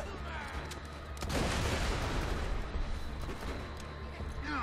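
A thrown grenade exploding in the Borderlands 2 co-op shooter game, a loud booming blast that swells after a second and rumbles on amid chaotic gunfire, with players talking.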